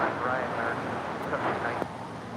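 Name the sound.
China Eastern Boeing 777-300ER landing at LAX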